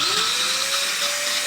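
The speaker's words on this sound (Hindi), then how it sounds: "यहाँ पे मैं इसके साथ एक ग्राइंडर 850 वाट का लगा के आप लोगों को दिखाता हूँ" An 850-watt electric grinder running off an Eastern Supreme 4000W inverter, a loud, steady high-pitched whine with a motor tone rising as it spins up, alone without talk.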